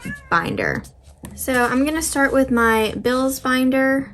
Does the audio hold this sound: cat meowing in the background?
yes